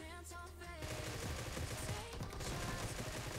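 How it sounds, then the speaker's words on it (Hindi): Rapid automatic gunfire in the mobile battle-royale game PUBG Mobile during close-range combat near a window, dense bursts of shots running almost continuously and fairly loud. "मैं कूदा और मैं खिड़की पे ही फायर दे रहा था"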